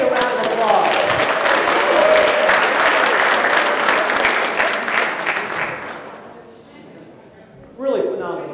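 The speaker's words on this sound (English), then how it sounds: "Everybody give Becky a round of applause." Loud, dense applause from an audience at a behavioral health event fills most of the stretch, then fades out, followed by a brief burst of voice at the end.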